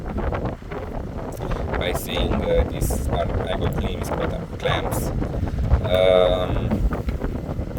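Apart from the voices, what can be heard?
large electric fan running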